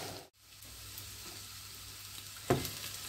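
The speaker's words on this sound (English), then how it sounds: "fry this for about I would say 10 minutes until the onion is tender and a bit golden" Onions frying in a pan until tender and golden, a quiet continuous sizzle close by, broken by a brief dip early on and a sharp stir or clatter near the end.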